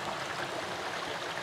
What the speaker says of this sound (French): capturer un peu le mouvement de l'eau, en particulier de cette petite cascade